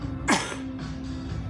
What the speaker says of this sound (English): if I cough and look up or look down, it like gets the phlegm out.